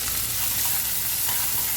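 Chopped onion sizzles loudly and steadily in hot oil with cumin seeds and bay leaf, a continuous close hiss with no pauses.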